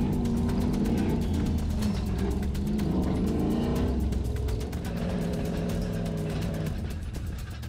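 Toyota Sequoia driving over a rough washboard dirt course, a loud continuous engine drone and roar with rapid rattling and jolting from the bumps, close up and unbroken throughout.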